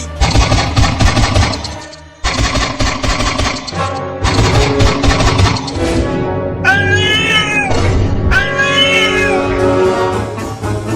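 Loud, repeated cat meows and drawn-out yowls fill the scene, rising and falling in pitch, with a few sharp gaps between bursts.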